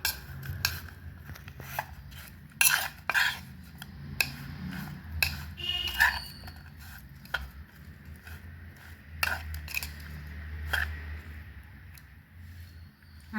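A spoon mixes red chili powder into cut karela (bitter gourd) in a bowl, giving sharp metallic clinks and taps in an uneven rhythm over a low, quiet background.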